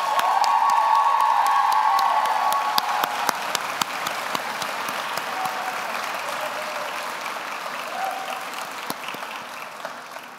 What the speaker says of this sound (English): I'm sure you would all love to join me in a round of applause for your amazing